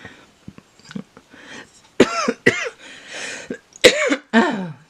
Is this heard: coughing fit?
yes